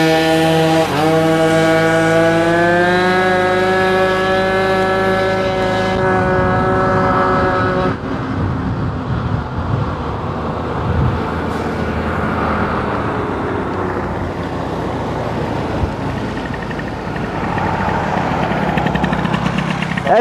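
Moped and scooter engines at full throttle, a loud rising two-stroke whine that climbs in pitch, then a rough droning roar as the small bikes ride on, close and steady throughout.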